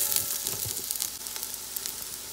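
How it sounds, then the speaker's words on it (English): Steady sizzling of onions frying in a pot for Guyanese metemgee, a continuous crackling hiss with small pops, fairly close and moderately loud. "we're frying up the onions a little before we add our provision."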